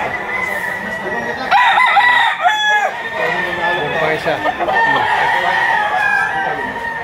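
Several roosters crow one after another, close and loud, with clucking fowl around and someone talking briefly among them at a gamecock market in Lipa, Batangas.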